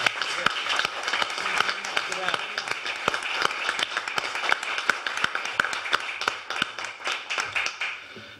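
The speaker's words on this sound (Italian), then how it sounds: "per il quale vi invito a fare un caloroso applauso" Audience applause at an Italian book presentation in Soverato, a steady patter of many hands clapping throughout at moderate volume in an indoor hall.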